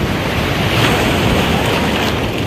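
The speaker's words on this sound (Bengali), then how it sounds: "এই কত বড় ঢেউ আসছে আবার।" Big sea waves crash and roar continuously at Puri beach, a dense, loud wash of surf with wind buffeting the microphone and no voices.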